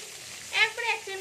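Black cumin seeds sizzle in hot oil in a home kitchen pan as potatoes are about to be fried for a katla fish dish: a close, steady frying hiss that rises in a brief crackling burst and then settles.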